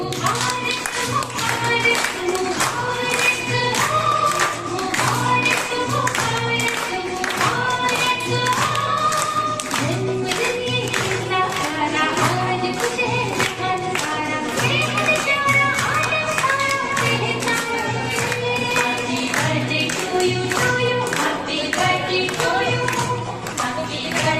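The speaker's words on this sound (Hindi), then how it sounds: "तालियां बजाओ, तालियां।" Rhythmic group clapping from an audience at a 55th birthday celebration, steady and loud, mixed with background music and voices, including children's chatter.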